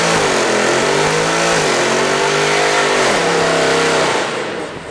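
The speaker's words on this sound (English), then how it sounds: "Is he saying do a burnout? He's saying do a burnout." A 6.2-litre V8 in a Mercedes C63 revs hard for a burnout, a loud, continuous bellowing roar that rises and falls in pitch through several throttle blips, close up and with no talk over it.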